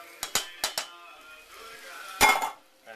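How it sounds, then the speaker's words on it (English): Clinking and clattering of a metal pan and utensils as tomatoes go in on top of browned meat for rogan josh, several sharp knocks followed by a louder scraping clatter, close and mostly without talk. "it's time to add our entire quantity of tomatoes"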